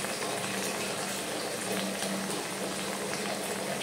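A pot of water at a rolling boil with fish just added, a dense, continuous bubbling and churning that stays loud and even throughout, close up, with no talking.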